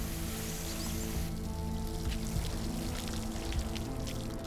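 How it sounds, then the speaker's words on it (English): Fire hose plugged into a water main, spraying a steady, dense rush of water that holds at a constant level for the whole stretch, with a continuous low hum underneath. "the plane had been rinsed with a fire hose plugged into the water main"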